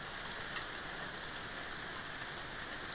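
Rain falls steadily on outdoor surfaces, a soft, even hiss with faint scattered drops, distant and constant throughout with no talking.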